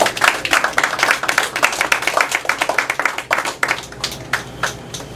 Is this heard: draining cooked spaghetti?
no